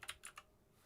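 A computer keyboard is typed on in three quick clicks in under half a second, close and fairly soft, followed by a quiet room.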